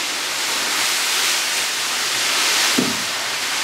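Steam hisses steadily and loudly from a beer brewing setup at a brewery during a pale malt red ale brew, a constant broad rush lasting throughout, with a soft thump near the end.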